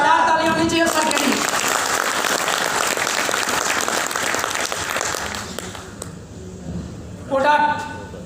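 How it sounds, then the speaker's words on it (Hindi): A business meeting audience applauds for the speaker in a dense burst of clapping that tapers off, with voices speaking at the start and end. "ताली होनी चाहिए सर के लिए"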